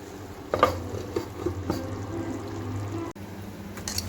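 Chicken liver being sautéed with potatoes and fried plantains in spices, a steady low frying sizzle with occasional scraping stirs of a utensil against the pan, close and moderately loud.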